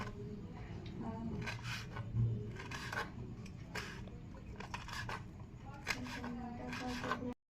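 Fresh wild leafy greens being finely chopped with a knife for a Konkan village vegetable dish, a close, steady run of rapid cutting strokes, soft and fairly quiet, with faint voices in the background.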